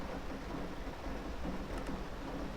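Steady video game rain hisses continuously with a low rumble beneath, a dense even wash of falling drops at moderate level with no voices.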